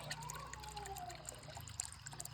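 Clean spring water trickles and gurgles in a steady, faint stream outdoors, a quiet continuous liquid dribble with small splashy bubbles and no voices.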